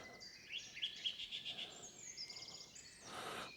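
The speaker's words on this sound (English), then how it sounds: "Yeah, you can hear the chiff chaff." Faint chiffchaff song outdoors on a Peak District hike: a series of repeated high chirpy notes in a steady rhythm, somewhat distant, with soft background ambience.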